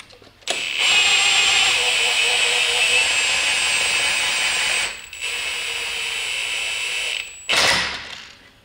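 Can-Am Maverick X3 clutch being popped off with a power tool: a loud, steady whirring mechanical whine running several seconds, a brief pause, then a second long burst and a short final spurt.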